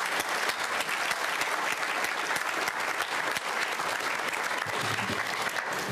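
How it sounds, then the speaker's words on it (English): Continuous applause rolls through a room of guests at a scholarship leadership breakfast, with dense, even clapping sustained for several seconds. "I'll give you guys a round of applause"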